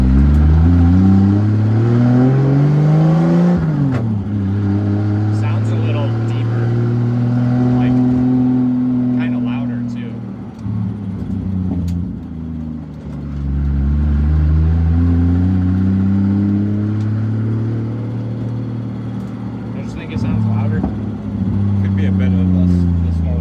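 A Toyota 2JZ engine, naturally aspirated with forged rods and pistons and a faulty exhaust, revs up with a rising whine, then drops off and winds down under engine braking, repeating the cycle, loud and close, with some voices in between.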